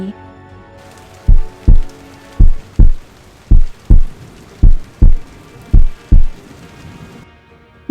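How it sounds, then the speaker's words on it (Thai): Deep, regular heartbeat thumps in close pairs, about five double beats, loud and up close against a faint hiss. "นั่นมันคือเสียงของหัวใจเต้นแรงที่มีมากกว่าสองดวง"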